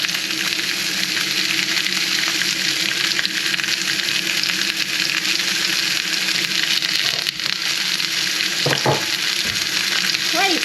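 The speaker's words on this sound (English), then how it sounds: "We're going to render down that fat first." Constant loud sizzling and crackling of pork fat rendering in a hot pan, with a brief scrape near the end and no talking.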